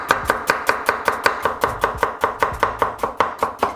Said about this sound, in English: Using these beautiful red onions, you want to thinly slice them.